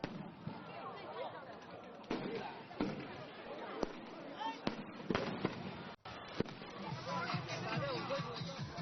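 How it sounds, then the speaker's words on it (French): Fireworks bursting along the Heilongjiang river bank during a festival, sharp pops and cracks at irregular intervals, some near and some farther off, over a background of crowd chatter and voices. "en voyant la quantité de feux d'artifice qui éclatent en bordure du Heilongjiang"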